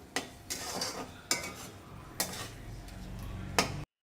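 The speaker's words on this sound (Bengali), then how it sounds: "ওল দিয়ে ভালো করে কষিয়ে নেব কিছুক্ষণ" Elephant foot yam is stir-fried with green chilli and spices in a pan. A metal spatula clinks and scrapes against the pan in sharp, irregular strokes about once a second, with a faint sizzle underneath.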